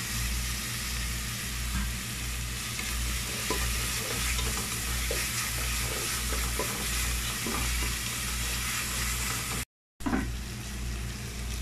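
Blended spice paste with salt and lemongrass fries in a pan. The sizzle is steady and close, with scraping stir strokes and a low constant hum beneath, broken by a brief dropout near the end.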